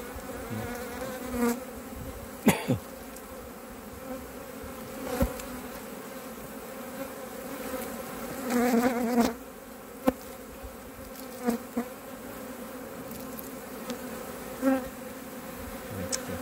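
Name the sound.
honey bees buzzing around hives in an apiary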